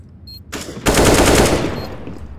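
Automatic gunfire in Counter-Strike: Global Offensive erupts loud and sustained after a brief lead-in burst, a dense rapid stream of shots that tails off slightly toward the end, with no talk over it.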